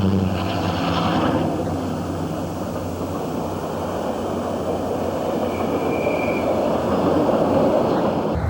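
A D&H freight train rolling past at a rail yard, a continuous rumble of wheels and cars with a brief thin wheel squeal, steady and fairly close, with no talking.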